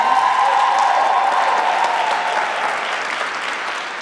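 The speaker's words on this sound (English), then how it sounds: "a round of applause for the instrumentalists" Audience applause for the instrumental band at a Tuskegee University Golden Voices Concert Choir concert, a loud, dense and steady clapping crowd that holds for the full stretch and eases slightly toward the end.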